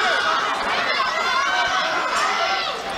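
Main-event fight crowd at a 3FC mixed martial arts card roaring and cheering steadily, a dense, loud wash of voices with shouts throughout, no clear break.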